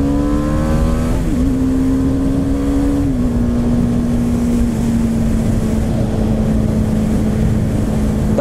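A 2017 BMW G 310 R single-cylinder motorcycle engine pulls steadily under throttle, a loud continuous drone whose pitch dips briefly with a gear change and then holds nearly level, running alone without any voices.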